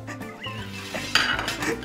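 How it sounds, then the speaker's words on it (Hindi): Plates shuffled and slid around on a table during a blindfolded food challenge, a run of close clinks, scrapes and knocks of dishware with no speech. "अभी तू अच्छे से प्लेट शफल कर"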